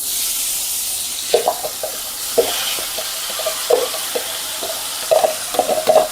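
A crushed tomato and onion mixture frying in oil: a soft, steady hiss with irregular spatula scrapes and taps that come in short clusters, close by and without talk.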